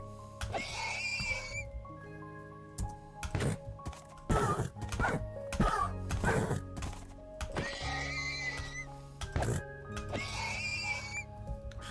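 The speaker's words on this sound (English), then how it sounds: "God, I do hate the sound effect of killing a horse." Repeated pained whinnying and squealing of a horse being killed in Minecraft, several loud cries spaced across the stretch with thuds of hits between them, over a steady game background hum.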